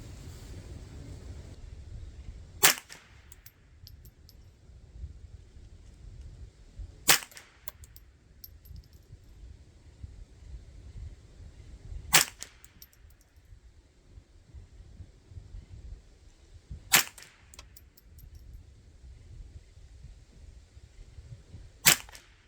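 .22 rifle shots from a Ruger 10/22 or Marlin Model 60 firing CCI Standard ammunition, five single sharp cracks spaced several seconds apart over outdoor wind noise.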